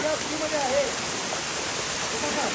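A monsoon waterfall at Torna Fort rushes as a steady, dense broadband roar, close and unbroken, with faint tonal traces that may be voices low in the mix.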